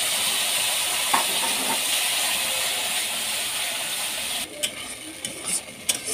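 Spice paste frying in a pan for mutton kosha with pistachio: a loud, continuous hiss and sizzle close by, then a few sharp clanks of a utensil stirring against the pan near the end.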